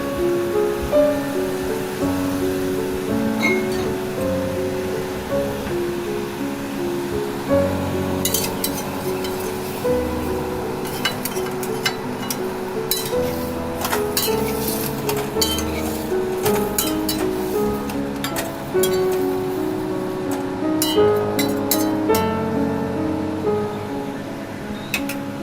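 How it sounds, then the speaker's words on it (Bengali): Vegetables and spices stirred in a pan for a potato and pointed gourd fish curry, with steady sizzling and scraping plus scattered clinks of a utensil against the pan over a long stretch. "মশলা সঙ্গে সবজি নাড়াচাড়া করে ভালোভাবে মিশিয়ে নিচ্ছি।"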